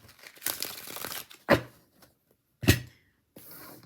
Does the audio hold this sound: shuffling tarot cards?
yes